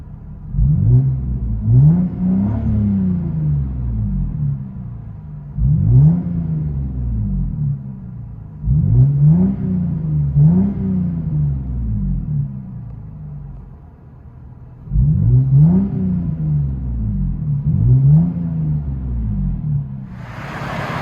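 From inside the cabin, the 2003 Lexus GS 300's 2JZ engine with Magnaflow Magnapack mufflers blips repeatedly. Four or five deep, muffled revs rise and fall over a low droning idle.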